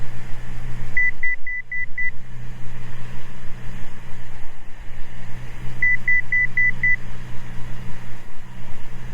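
Altitude alerter in a Cessna 206 Stationair cockpit giving two short bursts of five rapid, evenly spaced electronic beeps, several seconds apart, over a steady engine drone during descent, signalling 1,000 feet to go.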